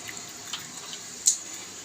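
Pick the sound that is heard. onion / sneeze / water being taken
water being taken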